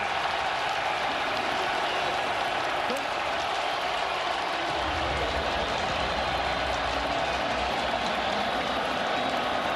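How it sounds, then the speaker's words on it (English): Stadium crowd at a UFL football game between the Arlington Renegades and St. Louis Battlehawks reacts around a missed field goal attempt, a dense continuous roar with voices mixed in throughout. "Crowd noise"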